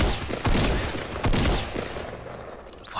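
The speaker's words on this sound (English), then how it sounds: "We're getting shot at." Gunfire in Fortnite Battle Royale on PS4 rings out in two loud, close bursts of rapid shots with a rumbling tail, followed by quieter rattling and another sharp burst at the very end.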